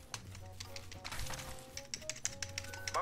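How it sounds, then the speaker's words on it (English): Several sharp keyboard key clicks, pressing the Control key, tap irregularly, close and fairly quiet, with faint background sounds. "is my keyboard just not letting me press control?"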